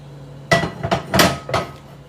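A meat tenderizer pounds a steak in four sharp, separate thwacks spaced about a third of a second apart, close and loud over a faint steady hum.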